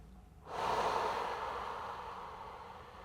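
One long, audible exhale out through the mouth during a yoga flow for hamstring mobility, starting abruptly after a short pause and fading slowly, close and fairly soft.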